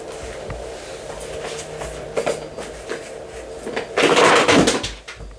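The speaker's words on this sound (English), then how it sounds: "I just knocked over all my tarot cards" A whole deck of tarot cards is knocked over, giving a brief loud clatter and shuffle of cards near the end, following quieter handling and faint room noise.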